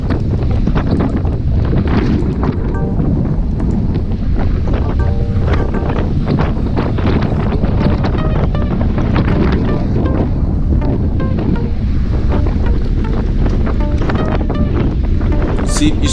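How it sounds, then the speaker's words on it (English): Strong gusting wind roars across the microphone during a group road bike ride in high winds, a steady, loud, broadband rush with flutter, continuous throughout with faint traces of voices underneath. "when the wind would blow or the gusts"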